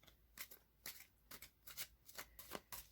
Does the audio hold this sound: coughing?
no